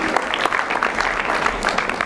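Audience applause at a junior high annual school day in Nairobi, a brief, dense round of clapping from a crowded hall, fairly loud and steady.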